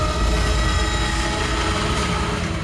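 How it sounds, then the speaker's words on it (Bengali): A train runs through a tunnel, a loud, steady, enveloping rumble with a constant roar and no let-up. "স্যার, ট্রেন সুড়ঙ্গ দিয়ে যাচ্ছিল"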